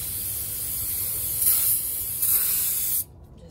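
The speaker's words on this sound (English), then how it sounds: "I'm gonna spray it with a little brake cleaner." A steady, loud hiss of aerosol brake cleaner sprayed on a rear brake drum of a 2008 GMC Sierra, continuous for about three seconds, with two brief stronger bursts, then cuts off abruptly.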